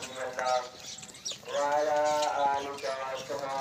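A deep, drawn-out moo from a large Nili-Ravi water buffalo nearby, sounding once after a brief earlier call, with faint background noise.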